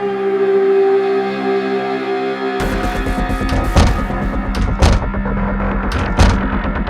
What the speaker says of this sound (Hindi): जैसे ही इसको कोई जबरदस्ती तोड़ेगा, इसका सायरन अपने आप बजने लगता है जी।